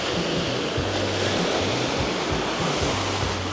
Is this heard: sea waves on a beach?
yes